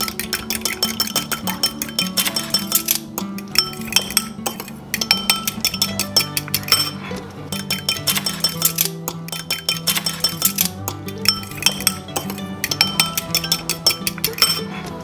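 A utensil clinks quickly and steadily against a bowl while melted butter and an egg are mixed together for zucchini flour, with sustained background music underneath.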